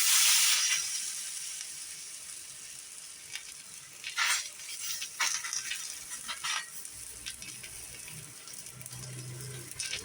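Egg-dipped bread for a veg bread omelette sizzles steadily in hot oil on a pan, a continuous close hiss with a louder burst at the start and a few sharper crackles along the way.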